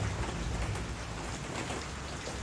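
Steady rain falling, a dense even hiss with low rumble throughout and no voices.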